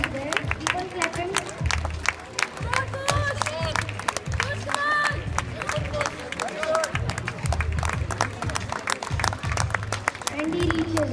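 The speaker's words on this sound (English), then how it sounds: "Keep on clapping." Sustained, busy applause fills a swimming gala as spectators clap steadily for a swimmer, with crowd voices and cheers carrying beneath it.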